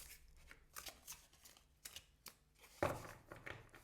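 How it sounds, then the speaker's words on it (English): Crisp riffling bursts of tarot cards being shuffled, several quick rounds with brief pauses, close up and fairly quiet. "It shuffles really well. Shuffling is like perfect."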